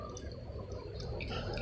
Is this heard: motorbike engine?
no